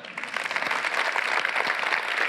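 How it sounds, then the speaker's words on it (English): An audience at a Google Cloud customer keynote claps warmly, a dense, even crowd applause of many hands that stays fairly loud and steady throughout, with no talking over it. "Big round of applause to all of them."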